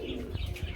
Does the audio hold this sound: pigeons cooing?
yes